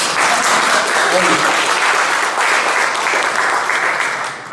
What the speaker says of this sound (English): So, applause there.